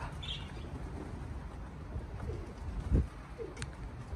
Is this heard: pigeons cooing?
yes